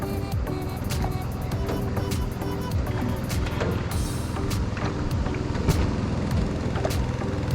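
A tourist rowboat in Tam Coc, Vietnam, pushed along by a rower using their feet: steady low rumble of a motor and water with repeated knocks and splashes, continuous and fairly close, no talk.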